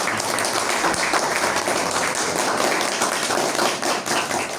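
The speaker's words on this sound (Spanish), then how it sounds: "Un aplauso a Mónica." Applause from an audience at a book presentation, a continuous dense patter of many hands clapping at a strong, even level for the whole stretch.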